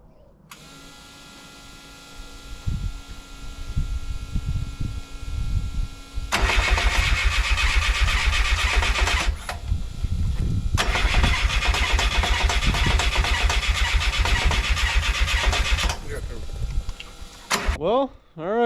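A VW ABA 2.0 engine in a buggy cranks repeatedly with a chugging starter rhythm, then catches in two sustained bursts of running before cutting out, heard close with some talking mixed in.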